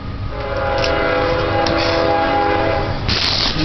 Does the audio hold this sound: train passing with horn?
yes